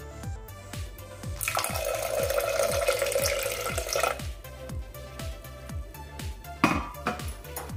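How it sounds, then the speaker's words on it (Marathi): Half a glass of water is poured into cooked, mashed dal, making a steady splashing pour for a few seconds alongside repeated light metallic taps of a spoon against a pot. "आता यामध्ये मी पाणी घालते अर्धा ग्लास।"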